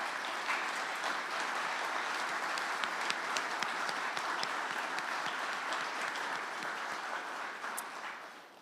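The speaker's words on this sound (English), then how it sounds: "I think that deserves a round of applause." Sustained applause from an audience welcoming an Airbus H145 helicopter to Manitoba, steady dense clapping at moderate distance with no talk, tapering off slightly at the end.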